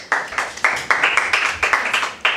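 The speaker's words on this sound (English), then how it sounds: "Round of applause." A small group claps at a school quiz, a brisk burst of roughly a dozen sharp, close handclaps in quick uneven rhythm, with no talking.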